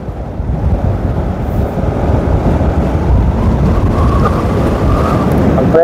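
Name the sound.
strong wind at a race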